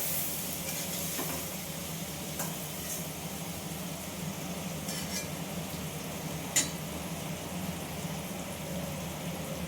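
Chopped tomato sizzling in hot oil in a pan for a masala kundru dish, a steady, even crackling hiss throughout with a few faint clinks of a utensil.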